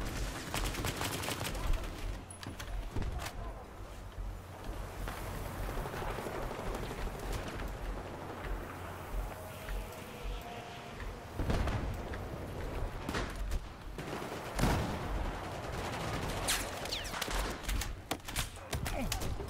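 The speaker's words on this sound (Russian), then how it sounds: "Да блин, откуда стреляют вообще хз?" Battlefield 4 gunfire crackles almost nonstop: rapid automatic bursts, scattered single shots and heavier booming blasts, with a few sharp nearby reports standing out against steady distant battle noise.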